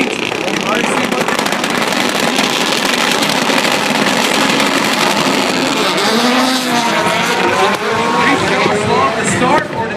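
Rallycross race cars battle through a heat at X Games Los Angeles, with engines roaring up close, tires squealing and skidding under braking, loud and continuous beneath excited commentary.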